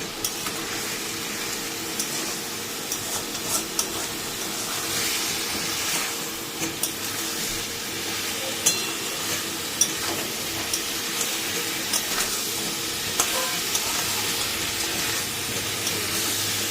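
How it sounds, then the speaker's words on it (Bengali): Taro curry is stirred in a pan, giving a steady broad sizzle and hiss with occasional soft scrapes of the spoon, close and continuous, with no voices. "এবার এটাকে একটু ভালো করে নাড়বো।"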